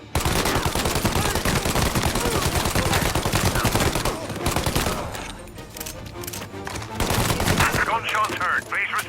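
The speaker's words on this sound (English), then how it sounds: "Gunshots heard." Heavy machine-gun fire and rapid shots crackle almost without pause in the Mafia video game, loud and close, thinning briefly midway before resuming, with voices under the shooting.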